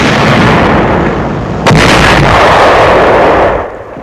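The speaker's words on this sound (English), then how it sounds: "The tank of the 2nd Armored Division opens fire." A World War II tank of the US 2nd Armored Division fires its cannon, one heavy boom breaking through a dense, roaring wall of old newsreel battle noise that thins out at the end.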